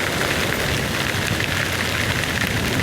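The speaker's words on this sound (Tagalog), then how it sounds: "galit na naman yung ulan" Heavy rain pouring down hard in a loud, unbroken roar of dense droplets that stays constant and close throughout, with no talking.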